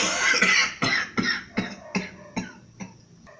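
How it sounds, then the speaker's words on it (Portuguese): Someone with a bad cough lets out a rapid string of about eight harsh coughs, close and loud at first, then fading, each burst sharp and separated by short gasps. "estou com uma tosse horrível"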